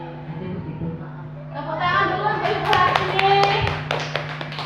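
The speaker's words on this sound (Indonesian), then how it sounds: "Tepuk tangan dulu untuk ibu hari ini." A group clapping hands in an indoor meeting, starting softly under talk and swelling into brisk, moderately loud applause with sharp separate claps.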